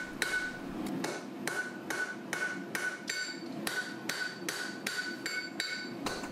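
A blacksmith hammers steel to draw out a taper, giving evenly spaced, ringing hammer blows at a steady working rhythm, close and loud, about a dozen strikes with no talk.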